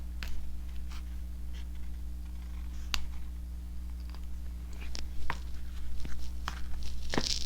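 A seam ripper picking and cutting stitches in fabric makes sparse, faint ticks and small snips at irregular intervals over a steady low hum.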